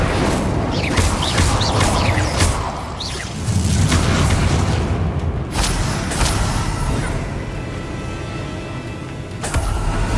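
Incendio fire spell in a boss fight in the video game Hogwarts Legacy: loud booming bursts and whooshing fire blasts over rumbling low noise, recurring through the stretch.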